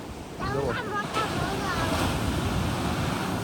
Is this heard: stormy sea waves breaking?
yes